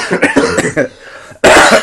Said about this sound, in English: have a cough break